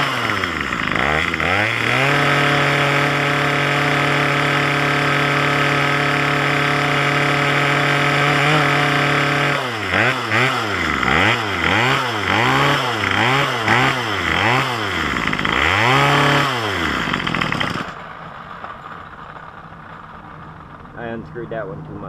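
A Craftsman string trimmer's small two-stroke engine screams at full throttle during a carburetor tune, holding a loud steady whine, then surging and dipping in repeated revs before dropping to a lower idle.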